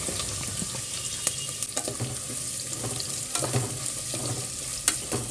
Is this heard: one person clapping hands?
no